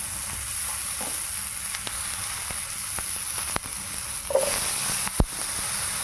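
Potatoes frying in hot oil with cumin seeds for a fish-head and rice dish. A steady sizzle runs throughout, broken by scattered sharp crackles and pops and an occasional louder spatter.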